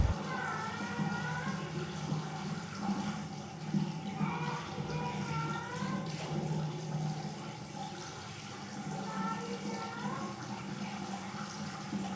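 Running water splashes in a washroom as a face is washed with cold water, a steady trickle and splashing at close range, continuous with faint intermittent sounds mixed in.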